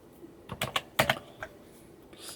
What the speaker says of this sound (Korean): 이제 글자를 입력할게요.